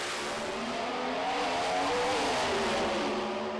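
Pro Stock drag racing cars launch at Santa Pod, a continuous loud roar of high-revving engines building steadily over several seconds, harsh and dense, with tire noise mixed into the blare and no pause.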